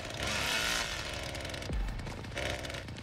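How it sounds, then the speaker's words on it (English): A chainsaw roars continuously in the Texas Chainsaw Massacre video game, a loud close engine drone with a rising rev and a deep low thump near the middle, running steadily without speech. "we're gonna stop our chainsaw so it makes less noise"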